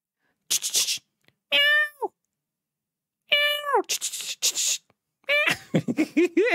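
A pet cat meows close by in a quiet room, several separate drawn-out cries with pauses between them, along with a few short rustles.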